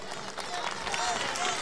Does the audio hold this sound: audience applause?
yes